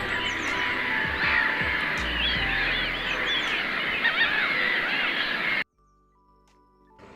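A flock of seagulls calls continuously, with overlapping squawks and honking cries forming a dense, steady chorus that cuts off abruptly into near silence.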